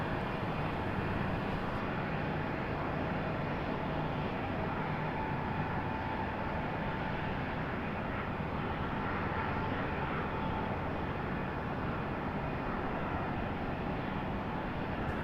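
An MD-11 airliner takes off at sunset from Raleigh-Durham International Airport, a steady, loud broadband engine roar that holds throughout with no talking.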